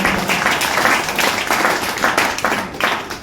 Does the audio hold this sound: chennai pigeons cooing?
no